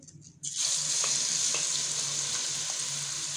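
Chopped onions hit half a cup of hot oil in a kadai, breaking into a loud, steady sizzle after a brief quiet start and holding strong throughout.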